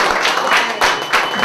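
Audience applause at a comedy show: a live crowd claps in a few uneven swells, bright and fairly loud, with rhythmic bursts of clapping rising and fading over a short stretch.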